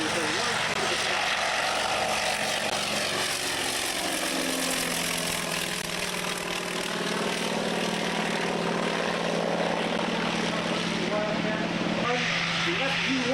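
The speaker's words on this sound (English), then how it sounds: "the diminutive FM2 Wildcat, taking very little runway with a launch into the sky" A vintage FM2 Wildcat fighter's piston engine and propeller roar steadily during takeoff at a beach air show, loud and continuous throughout.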